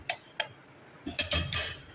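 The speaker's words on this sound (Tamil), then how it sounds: "கோழி முட்டையை உடச்சி இதில் ஊற்றிக்கலாம்" Two sharp light taps of a chicken egg's shell on a rim, then a brief crack and wet splashing sizzle as the egg drops into a hot pot of egg curry, close and clear.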